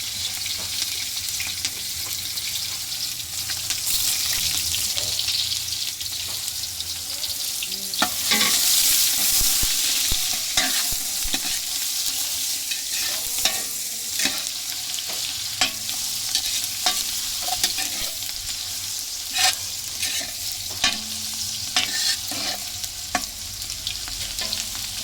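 Ginger sizzling in hot oil in a pan while being stirred for lugaw, a continuous crackling fry punctuated by frequent sharp utensil scrapes and taps against the pan, close and fairly loud, with no voices.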